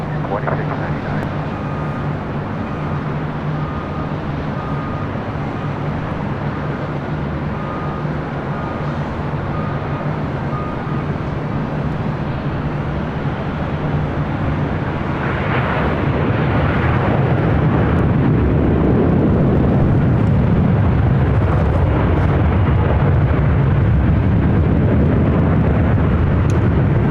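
An airliner takes off from runway 24 left at LAX, a steady broad jet roar that swells louder in the second half as the aircraft passes, continuous throughout with faint radio chatter in the background.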